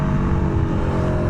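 A full-on track racing motorcycle on slick tyres roars steadily and loud at close range, its engine held at high revs with no let-up.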